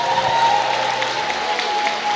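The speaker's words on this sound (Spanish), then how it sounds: "De un fuerte aplauso" Church congregation applauding loudly after a prayer, a steady wash of clapping with a faint sustained tone running through it.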